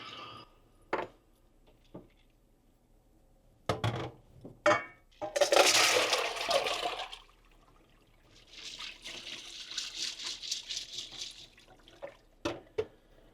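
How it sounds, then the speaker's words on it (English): Blanched nettles are dumped from an ice bath into a strainer, with a clatter and splash of water and ice, then a longer spell of trickling and dripping between scattered knocks and clinks. "And then I'll go ahead and just dump them in the strainer again."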